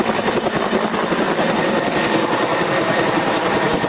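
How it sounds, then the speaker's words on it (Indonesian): Ambulance rescue helicopter flying overhead, a loud, steady rotor thrum with a rhythmic chop throughout. "Widih, lihat teman-teman, ada helikopter penyelamatan. Ini helikopter ambulan."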